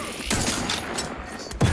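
Gunfire in The Outer Worlds 2, a loud sustained volley of shots lasting nearly two seconds with a sharper burst near the end, with no speech over it.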